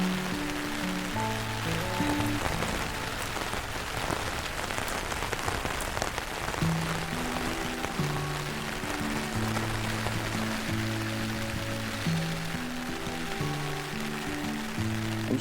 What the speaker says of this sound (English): I'm going to enjoy the rain.